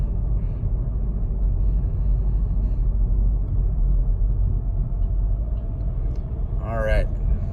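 A 2019 Volkswagen Golf GTI Rabbit Edition driving, with low, steady engine and road rumble heard from inside the car. A voice talks over it, and a brief higher tone sounds near the end.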